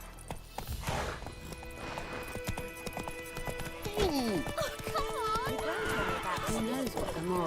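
Roach the horse from The Witcher 3, hooves clip-clopping at a steady trot with a neigh and whinny rising midway, a voice speaking over the gallop.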